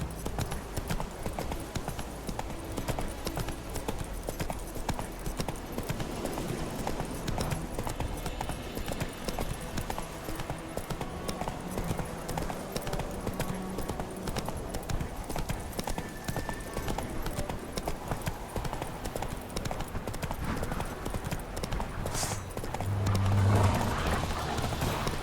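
Roach the horse gallops in The Witcher 3, a quick continuous run of hoof clip-clops at a steady rhythm for the whole stretch, with a brief whinny near the end and a faint voice now and then.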